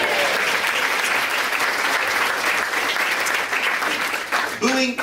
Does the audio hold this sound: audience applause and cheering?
yes